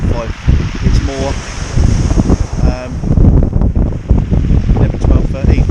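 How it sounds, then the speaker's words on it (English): A strong northerly wind blusters across the seashore at Tide Mills, roaring into the microphone with the wash of the sea beneath it, while someone talks steadily over the gusts. "But if you can probably hear in the wind, it's not 4 or 5, it's more"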